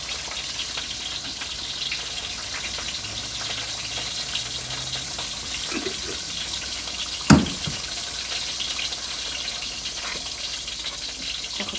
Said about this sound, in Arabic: نزود شوية مية كده.